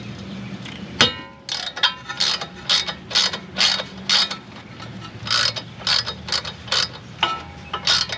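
A ratchet wrench clicks repeatedly while a brake hose mount on a 2012 Honda Fit is loosened, close and fairly loud in short rhythmic bursts after a sharp metallic clank.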